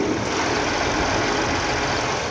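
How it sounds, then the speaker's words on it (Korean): A used four-wheel-drive SUV with a white body sits idling, its engine a steady, smooth hum up close that runs unchanged throughout with no speech. "엔진음 들으신 것처럼 굉장히 정숙한 엔진을 들어보실 수 있었습니다"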